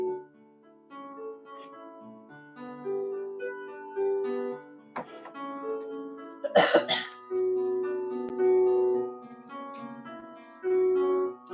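A single sharp cough bursts out midway, close and fairly loud, over a steady backdrop of music with sustained tonal notes.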